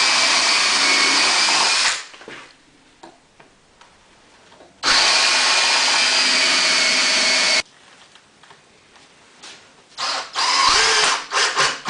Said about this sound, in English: I'm just going to drill some pilot holes, probably countersink them